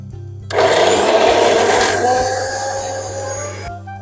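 Mixer grinder roaring loudly as it crushes coconut chutney ingredients with dried red chillies, onion, ginger and curry leaves, starting abruptly, running steadily for about three seconds and then cutting off.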